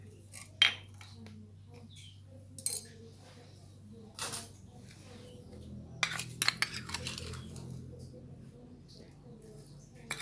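A metal spoon scoops salt and MSG from containers while seasoning tofu skin, with a few sharp clinks and scrapes spread out, loudest near the end, over a quiet background.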